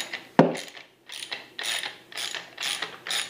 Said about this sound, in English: there's a bolt in here you have to